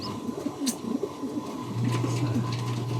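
Pigeons in a fancier's loft give low, rolling coos, a soft throaty drone swelling in the second half amid faint chirps and background rustle.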